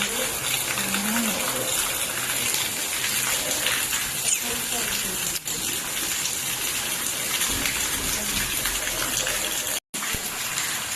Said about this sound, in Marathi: वा, का जोराचा पाऊस लागला आहे